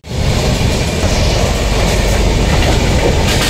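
A passenger train runs loud and close with a continuous rumbling roar and wheel noise while pulling into a station, no voices heard.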